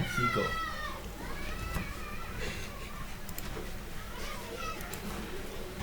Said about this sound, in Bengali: বাইরে পোলাপান চিল্লাপাল্লা করতেছে।